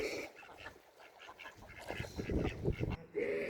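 Ducks quacking at a pond or ditch, a series of moderately loud calls close by with some background noise.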